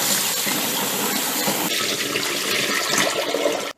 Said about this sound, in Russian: Моем шпинат и капусту.